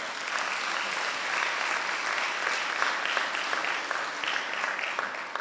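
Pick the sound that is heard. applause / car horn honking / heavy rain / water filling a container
applause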